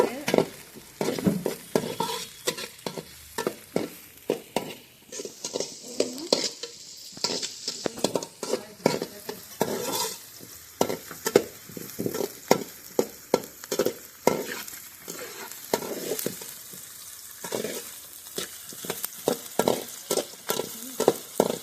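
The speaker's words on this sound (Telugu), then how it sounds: "ఇవి బాగా కొంచెం దోరగా వేసుకోవాలి" Green chillies and carrot being stir-fried in a pan for vegetable manchurian, with rapid repeated spatula scrapes and clinks against the metal over a soft sizzle, close up and continuing throughout.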